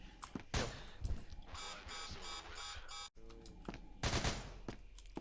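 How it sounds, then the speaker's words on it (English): Gunfire in the SCP video game rattles in rapid automatic bursts and a few single cracks, a fairly faint burst-filled stretch with a brief break partway through and no talk. "They're fucking shooting me."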